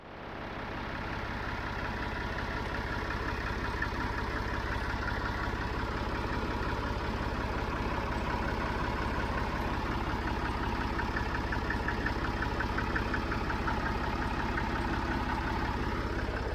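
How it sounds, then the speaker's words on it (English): A farm tractor used for fertilizing hay fields comes up to a loud, steady idle after a brief rise, holding a constant rumbling drone for the rest of the clip with no other sounds. "let me set this thing out of the way and see if I can get that tractor started"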